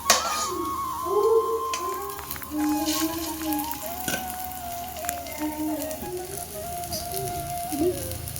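Prawn-head lentil fritters frying in oil, a steady close sizzle with scattered crackles, no talk, with faint tonal background sounds drifting above the hiss.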